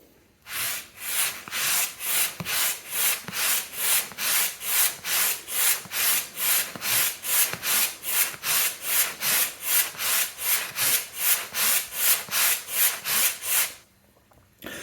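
Straight razor stroked back and forth on a cotton strop, a steady run of about thirty rhythmic raspy swishes at an even pace, close and fairly loud, with no talking.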